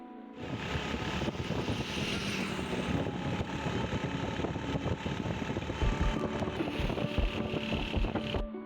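A motorbike rides along a road in cold, cloudy weather, giving a steady close engine drone mixed with rushing wind for several seconds.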